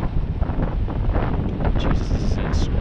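Heavy wind buffets the microphone while someone rides a Xiaomi Pro 2 electric scooter into a strong headwind. A loud, continuous roar fills the whole stretch.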